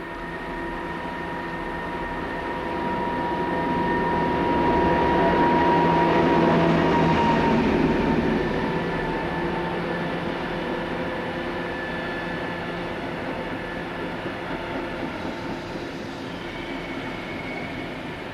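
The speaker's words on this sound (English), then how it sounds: "232530 arrives with a train from Bebra on 27th July" Class 232 diesel locomotive 232530 arrives hauling a train from Bebra, its engine drone and steady tonal hum swelling as it draws near, peaking mid-pass and then easing to a sustained rumble.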